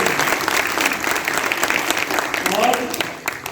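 A theatre festival audience in Chhatarpur claps loudly and continuously after a play about Mahabali Chhatrasal, with the applause staying thick and even before easing off slightly at the end, and some voices mixed in.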